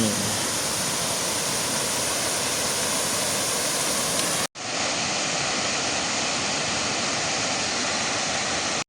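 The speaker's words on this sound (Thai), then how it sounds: "น้ำตกแม่ปาน" Mae Pan waterfall pours in a steady, dense roar of falling water, loud and unbroken apart from one brief cut midway, with no voices.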